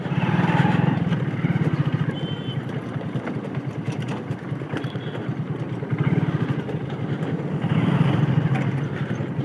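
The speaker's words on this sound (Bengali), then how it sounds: "ভাঙ্গার মধ্যে বাইকটা যখন চলে তখন কেমন যেন একটা কাটকাট করে আওয়াজ হইতেছে" A motorcycle engine runs steadily nearby with a dense low rumble and rapid rattling clatter, swelling louder at moments as it rides over a broken road under repair.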